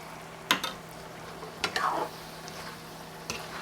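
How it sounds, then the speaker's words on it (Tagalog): Cooking wine added to browned beef in a pan for beef pares, giving faint sizzling and a few sharp utensil scrapes and stirs spaced apart, quiet and close. "Maglalagay na tayo ng ating cooking wine."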